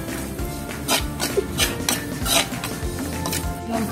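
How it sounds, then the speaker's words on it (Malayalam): Metal spoon scraping and knocking in a pan while turmeric and chili powder are stirred for a fish curry of dried shark, a steady run of clinks and scrapes at close range with no talk. "നന്നായിട്ടൊന്ന് കുറച്ച് നേരം ഇളക്കി കൊടുക്കുക."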